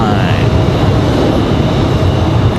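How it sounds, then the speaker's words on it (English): A United Boeing 737 MAX 9 arriving from Newark gives off a loud, continuous engine roar, a dense rush of noise that stays steady throughout. "So this MAX 9 coming in from Newark, New Jersey."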